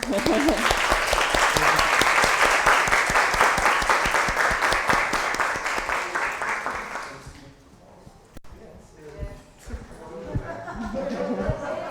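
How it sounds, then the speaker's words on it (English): An audience at a human evolutionary genetics lecture gives a round of sustained, rhythmic clapping that fades out, followed by scattered voices and a brief sharp knock. "So help me to clap for him."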